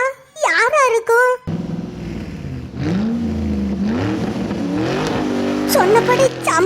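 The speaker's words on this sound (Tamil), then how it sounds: "என்ன காரு மறுபடியும் சத்தம் கேக்குது? ஒருவேளை வேற யாரோ கார்ல போறாவளா?" Right after a brief spoken exchange, a car engine rumbles in loud and close, its pitch rising and falling steadily as it drives past, with voices returning over it at the end.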